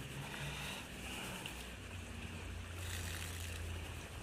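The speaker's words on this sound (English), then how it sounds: "give it a quick swish around" Water swishes and sloshes around in a gold pan at a creek, a continuous soft washing rush that swells and fades without talk.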